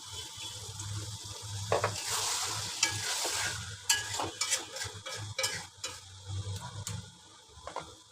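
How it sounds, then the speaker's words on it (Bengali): Duck meat sizzling in a pan as it is stirred and fried down, with close, steady frying noise and repeated scraping strokes of a utensil against the pan. "হাঁসের মাংসটা আমি এখন কষাই নিব ভালো করে।"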